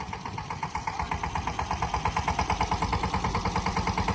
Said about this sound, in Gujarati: અને જો કેમ ટ્રેક્ટર બોન્ડિંગનું કામ હાલે છે.